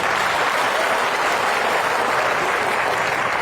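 A crowd at a political rally in Uttar Pradesh breaks into dense, sustained applause, loud and even for the whole stretch with no pauses.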